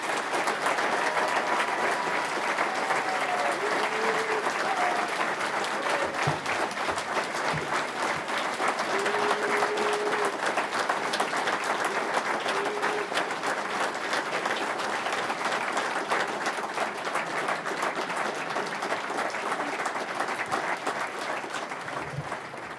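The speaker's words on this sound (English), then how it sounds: "What rousing applause, which reflects quality and leadership." Steady, sustained applause from a seated audience at a Conservative Conference fringe event, a dense wash of clapping lasting over twenty seconds with faint voices and a few soft bumps beneath it.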